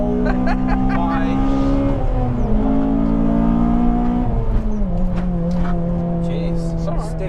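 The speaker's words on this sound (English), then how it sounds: "Oh my days, rev matching." A Honda Civic Type R FD2 engine revs hard and holds a loud, sustained drone, with the pitch dipping and climbing through rev-matched gear changes, heard from inside the car with voices talking over it.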